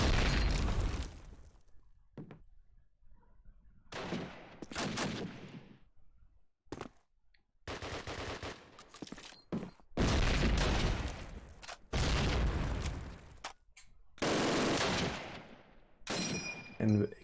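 Call of Duty: United Offensive match gameplay with repeated loud gunshot bursts and explosive booms in irregular clusters, separated by short quiet gaps, with a voice talking at times.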